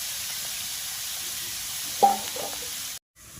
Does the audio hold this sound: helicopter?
no